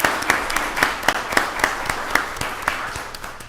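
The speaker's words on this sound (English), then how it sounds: "Give her a round of applause again" Modest applause at a county board of commissioners meeting, a small group clapping unevenly with scattered sharp claps that fade gradually over a few seconds.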